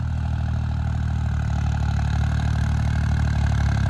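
A modified 3630 tractor's diesel engine idling close by, a steady low rumble with an even rhythmic chug that continues without pause.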